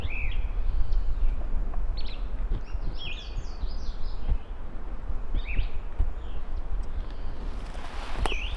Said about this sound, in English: those warblers were a really cool moment